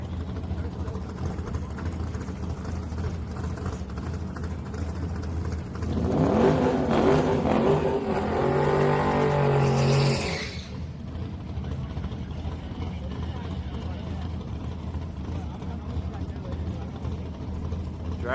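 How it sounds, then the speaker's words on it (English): A dragster engine revving at a Houston Raceway Park drag race, rising to a loud roaring burst for several seconds amid crowd noise before dropping back to a distant rumble, with people talking nearby. "Is this the dragster? Yeah, it's a dragster."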